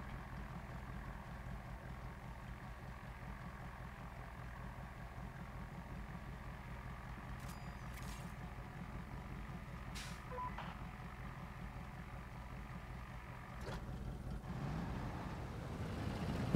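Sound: truck engine idling and reversing beeps in MudRunner video game

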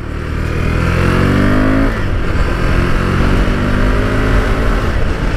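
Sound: KTM Duke 390 motorcycle accelerating while riding

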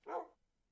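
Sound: dog barking in Minecraft video game

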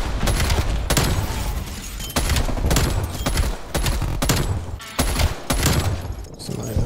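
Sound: gunfire in the video game Call of Duty: Cold War

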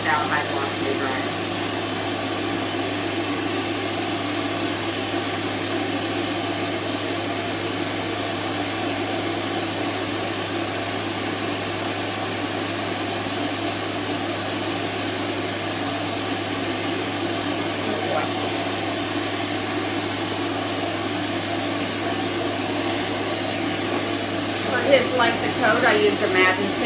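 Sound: pet hair dryer blowing on high

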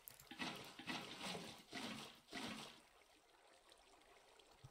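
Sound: water being placed in Minecraft video game

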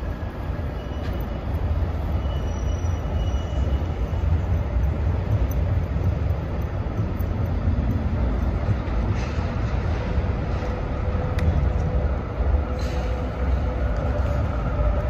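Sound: tram arriving in Oslo

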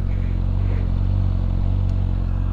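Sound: stock motorcycle exhaust running

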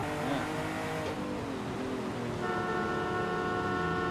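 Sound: car horn honking in Forza Horizon 5 video game

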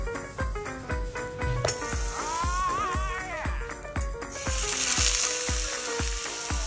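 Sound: pork sizzling while pan-frying

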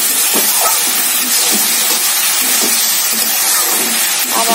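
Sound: water boiling and steaming in covered pot with bottle gourd

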